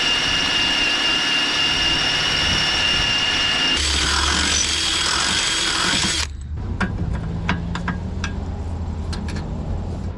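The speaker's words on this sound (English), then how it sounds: "So now I'm just grabbing a big drill bit that's just slightly bigger than that stud." A power drill whines loudly and steadily as a large bit bores a hole beside a car's stud, then stops abruptly, leaving a quieter hum with a few small clicks.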